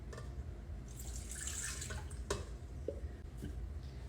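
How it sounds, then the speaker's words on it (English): Half a cup of water poured into a bowl of white frosting mix with shortening, a soft splashing trickle near the microphone with a few small drips and clinks. "to that we're gonna add a 1/2 cup of water."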